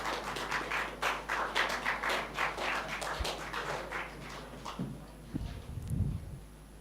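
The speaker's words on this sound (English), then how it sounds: "It's a big round of applause" An audience gives applause at a research methodology workshop, with a few seconds of steady clapping from the crowd that fades out, followed by some low knocks and rustles.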